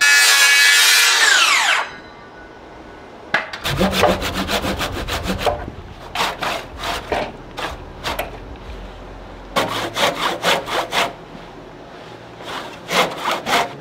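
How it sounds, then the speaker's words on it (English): Reciprocating saw cutting into a wooden 6x6 beam for barn framing: a brief high whine first, then several bursts of loud rapid rasping strokes with short gaps between them; no talk. "Sawzall works better."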